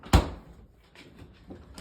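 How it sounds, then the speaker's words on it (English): A refrigerator door swings shut with one sharp, close thud, followed by a faint rattle and soft handling noises in a quiet kitchen. "we're going to go ahead and close the door."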